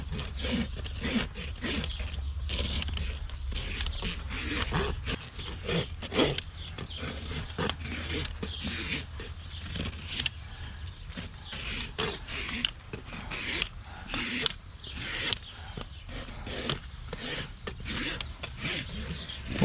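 A rasp files a horse's hoof in quick, rough, repeated strokes, close up and rhythmic for about twenty seconds, with a low steady rumble underneath.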